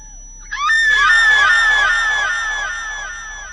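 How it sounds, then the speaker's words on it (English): A woman screams in horror in a kitchen: one long, piercing, wavering scream that starts abruptly, stays loud and slowly fades, alone without other voices. "Jada enters the kitchen in a panic and screams in horror."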